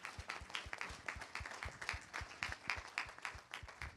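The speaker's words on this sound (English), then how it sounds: "So give yourselves a round of applause." A live audience at a Detroit tour event, heard as a sparse, fairly distant round of individual claps, each one distinct in an uneven patter, with no talk over it.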